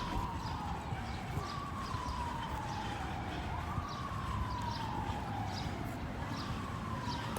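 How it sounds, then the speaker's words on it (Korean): A wailing ambulance siren rises and falls repeatedly at a distance in Manhattan, New York, heard over steady street background noise. "황급히 어디론가 가는 구급차의 세이렌 소리."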